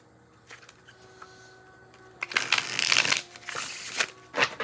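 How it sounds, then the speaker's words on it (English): Linen-finish tarot cards being shuffled by hand, soft papery riffles and slides that start quietly and then grow into a louder burst of crisp shuffling near the microphone. "Let's give it a good shuffle."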